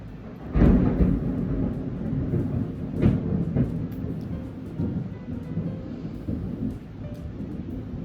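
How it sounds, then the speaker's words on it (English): Thunder cracks and rumbles during a storm with steady rain, one heavy boom near the start and a second sharper crack a few seconds later, rolling low and loud over continuous rainfall with no talking. "Lightning and thunder hit real hard."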